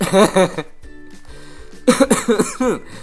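A person coughs a couple of times up close, with short bursts separated by a quiet pause.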